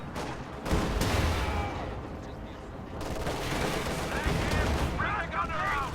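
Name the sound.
gunfire and anti-tank fire in a video game battle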